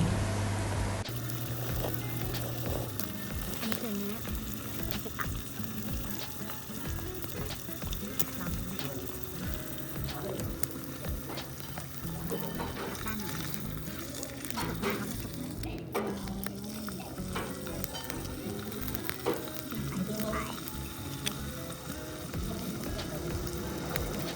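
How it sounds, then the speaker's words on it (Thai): Akita beef cooks at a Shin-Tamagawa resort in Tohoku, Japan, in winter, giving a continuous close sizzling hiss that runs the whole time, with faint background murmurs. "เดี๋ยวเรามาฟังเสียงเนื้อกันดีกว่าเป็นยังไงบ้าง"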